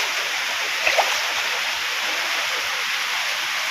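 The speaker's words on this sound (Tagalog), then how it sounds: "biglang buhos na naman ng malalakas na ulan kaya ito balik na naman yung tubig sa loob overflow" Heavy rain pouring down on a farm during a flood, with rainwater overflowing inside, heard as a steady, dense hiss of falling and rushing water that stays loud and unbroken throughout.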